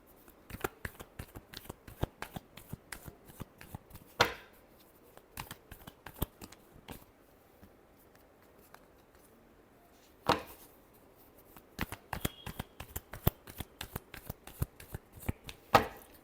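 A deck of tarot cards is shuffled close by in quick bursts of crisp riffling and slapping, with a pause midway before another run of rapid card flicks.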